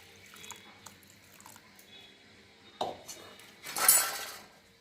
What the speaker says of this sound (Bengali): আর একটু গরম জল নিয়ে এর মধ্যে অ্যাড করে দেবো